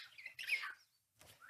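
African grey parrots calling inside a rescue aviary in Crécy-la-Chapelle: two short, faint whistling chirps separated by a brief silence, with no voices.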